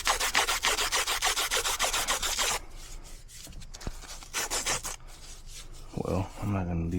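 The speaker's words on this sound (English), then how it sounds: "I'm just gonna sand it here." Hand sanding on an HVAC unit's refrigerant line near a clogged filter drier gives steady, close back-and-forth rasping strokes for a few seconds, then softer scattered handling noises and a brief voice at the end.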